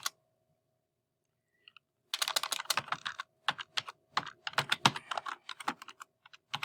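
Typing on a computer keyboard: after a near-silent gap, bursts of crisp, close key clicks arrive in quick irregular clusters with short pauses between them.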